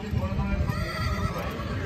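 A mare neighs at a horse competition in Pakistan, a loud whinny amid steady crowd noise and low rumble, with voices in the background.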